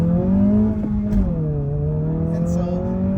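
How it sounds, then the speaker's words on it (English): Honda Civic Si engine revving up steadily, a continuous loud rising hum with a low droning note, with no talk over it. "revving it out is a lot of fun too"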